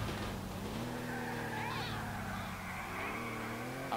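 Car in GTA IV spinning and skidding, an engine drone under a brief rising tire squeal midway, steady and moderately distant.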